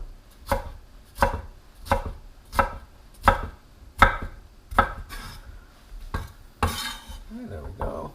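A knife chops celery on a cutting board for jambalaya, with about ten evenly spaced sharp knocks close up, followed by a brief scrape and a clatter.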